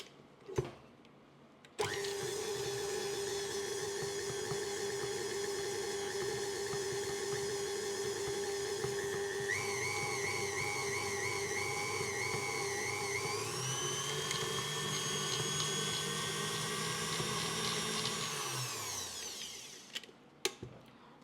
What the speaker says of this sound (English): increase the speed and beat them for 5 minutes with high speed of electric mixer